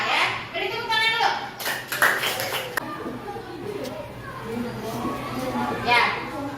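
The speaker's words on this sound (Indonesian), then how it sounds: "Beri tepuk tangan dulu." Children in a classroom clap their hands in scattered bursts while a teacher and pupils talk over the sound, with a steady low hum running underneath.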